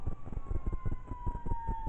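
Fire department siren in the distance, a faint, slowly falling wail that runs through the whole stretch beneath steady low rumbling noise.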